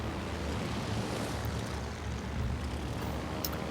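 Squad of torpedo bomber aircraft droning in World of Warships Legends, a dense continuous propeller roar mixed with ocean wash, steady and loud throughout with no voices.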